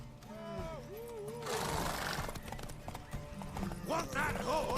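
Horse hooves clip-clopping at a gallop in The Witcher 3, with a neigh and loud galloping beats under a voice shouting, close and energetic.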